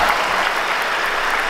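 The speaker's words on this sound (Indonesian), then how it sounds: "Kasih tepuk tangan dong." A crowd applauds during a lively Indonesian show on tolerance, giving dense, loud, continuous clapping that holds steady for the whole stretch.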